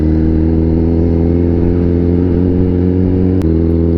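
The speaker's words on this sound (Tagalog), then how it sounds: "Pero may mga motor." Motorcycles travel along a road on Marilaque highway, engines droning loud and close in a continuous hum with a brief sharp click near the end.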